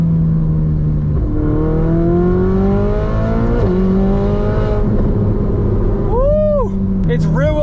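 A Ferrari 488 Spider engine drones loudly under braking, then blips sharply upward on a downshift with rising and falling rev flares, close and prominent, while a person speaks over it.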